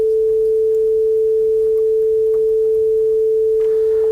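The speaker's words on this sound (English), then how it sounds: "once we pressed the first key, a sine wave started which doesn't stop" A continuous pure sine tone started from a MIDI keyboard key on a Bela board, holding one unchanging pitch at steady loudness throughout over faint background noise.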